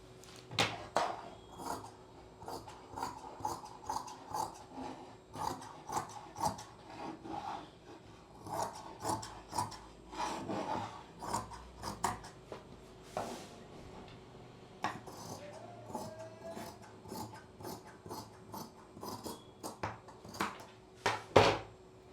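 Scissors cutting fabric for suit sleeves, a long run of repeated crisp snips and rasping strokes, close and moderately loud, with short pauses between cuts.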